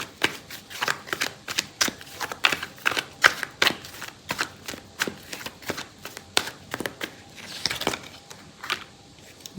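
A deck of tarot cards being shuffled by hand, giving a steady run of sharp riffling bursts and soft card slaps close to the listener, with no talking over it.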